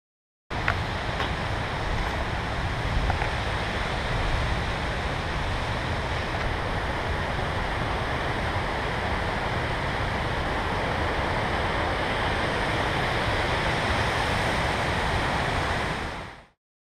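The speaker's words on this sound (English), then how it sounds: "all that water that's around us, that's coming from the glacier up top." Glacier meltwater rushes steadily beside a trail near Mount Rainier, a loud, continuous broadband roar of churning water that holds even from start to finish with no voices.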